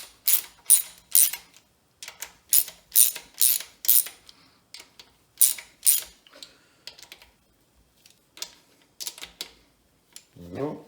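Ratchet wrench snugging bolts on a Ford 302 V8 engine, close, loud bursts of rapid clicking in repeated short strokes separated by pauses, with a voice briefly at the end.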